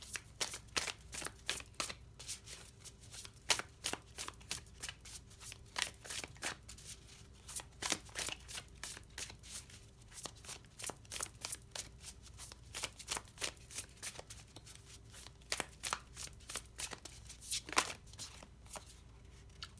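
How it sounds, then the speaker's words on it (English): Tarot cards shuffled in rapid bursts of crisp riffling and slapping clicks, repeating steadily for the whole stretch, close to the microphone with no talking. "feel free to fast forward while I'm shuffling"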